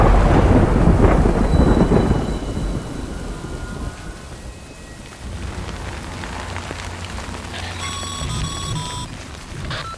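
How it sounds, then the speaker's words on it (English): A heavy thunderstorm with rain in the video game Death Stranding: a loud, rumbling thunder roll fades into steady rainfall, and a brief electronic tone sounds near the end. "Good thing it was raining."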